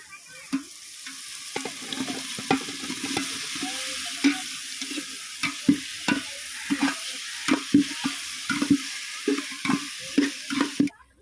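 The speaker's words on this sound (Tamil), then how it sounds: "உருளைக்கிழங்கு கொட்டிக்கலாம்" Potatoes sizzle steadily in a hot pan while a spoon stirs them in repeated scraping strokes, a close, continuous frying hiss punctuated by regular clanks and scrapes, with no talking.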